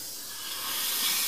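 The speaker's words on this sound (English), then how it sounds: "let some of the steam out" Steam hisses steadily out of a steam engine boiler, a loud broadband rush that grows slightly stronger toward the end, with no voices.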